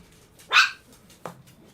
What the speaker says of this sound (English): I have to deal with some dogs